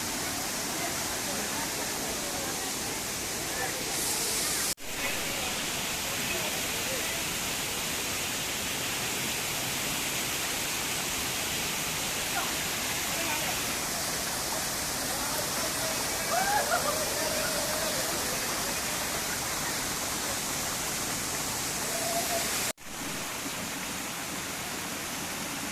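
Seetharkund waterfall in Palakkad, running low on water, gives a steady, unbroken rushing roar that fills the whole scene from nearby, with only slight shifts in intensity.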